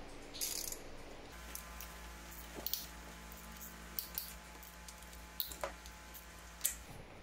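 A ratchet works loose the 12mm bolts on a Duramax diesel's fuel pressure regulator, giving scattered sharp metallic clicks and small clanks over a low hum, close-up and fairly quiet, no talking.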